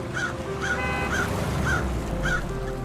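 A crow caws five times at an even pace over steady traffic noise, each call clear and harsh and fairly close.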